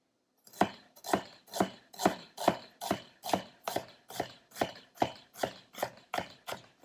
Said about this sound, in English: So I've got my ginger. I'm just going to slice it up real quickly.